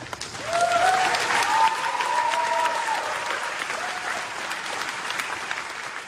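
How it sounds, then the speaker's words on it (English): Audience applause for a pastor at a dance event, a sustained crowd clapping that swells quickly and holds steady at moderate loudness throughout, with a faint voice briefly heard early on. "After that applause, he gets to his confession."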